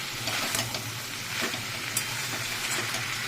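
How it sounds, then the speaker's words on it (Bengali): Ginger and green chili paste sautéed in a pan give a steady close sizzle with light stirring scrapes throughout and no talking. "আদা আর কাঁচা লঙ্কা বাটা দিয়ে দিয়েছি, দিয়ে এবার এটাকে ভালো করে কষাবো"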